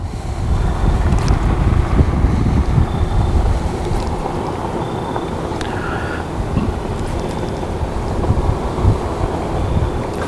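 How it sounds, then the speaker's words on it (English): A breeze blows outdoors beside the water during a fishing outing, a steady, loud rush of wind buffeting the microphone with low rumble and faint lapping underneath, no voices. "There's that breeze back."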